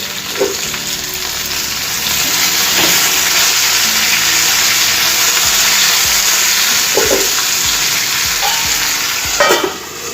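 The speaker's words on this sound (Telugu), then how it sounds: "ఇప్పుడు టమాటా ముక్కలు కూడా వేయించుకోవాలండి. ఇందులోనే వేసి" Tomato pieces fry with ivy gourd in a pan, producing a loud continuous sizzle with a few spatula scrapes and taps, heard close with no talking.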